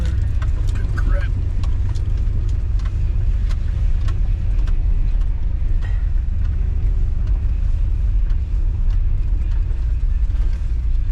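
Pickup truck grinding over rough, uneven ground while hauling topsoil, a steady loud low engine and road rumble throughout with small knocks and rattles, and someone talking over it.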